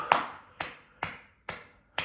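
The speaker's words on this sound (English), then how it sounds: "Now breathe out and clap your hands" Hands clapping during a breathing exercise, five sharp isolated claps spaced about half a second apart, each with a short room decay, fairly soft and alone.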